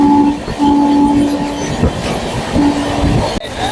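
A train on the Sealdah to Puri run rolls along with a steady rumble and rhythmic wheel clatter, loud and close from inside the carriage. A brief horn-like tone rises and falls, and a sharp knock comes near the end.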